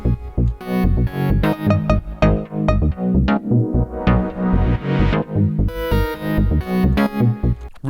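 A dense electronic minimal house groove with a repeating synth lead and short plucked synth notes looping over a steady low pulse, continuous and loud.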